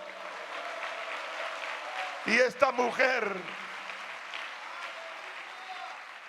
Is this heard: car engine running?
no